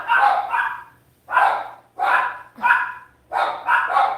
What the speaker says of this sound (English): Sorry about the barking, guys.